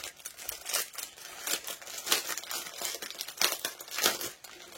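A crinkly plastic package is torn and opened by hand, with loud, close crackling and rustling in repeated bursts and no speech.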